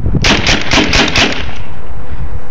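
A paintball gun fires explosive rounds in a rapid burst of about six sharp, loud cracks, then gives way to a steady hiss of background noise.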